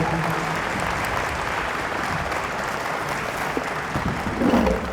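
A hall-of-fame induction audience claps steadily in a dense, continuous wash, loud and close throughout, swelling slightly near the end.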